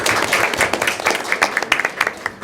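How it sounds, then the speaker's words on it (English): Audience clapping at a school board of education meeting in Delaware County: a steady patter of many hands, moderately loud and fairly close, with no talk over it. "we do so much more clapping now"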